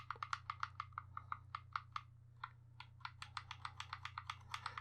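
Rapid computer keyboard key presses while playing Hyper Sports on a retro home computer, a steady run of sharp clicks with a brief pause midway, over a constant low electrical hum.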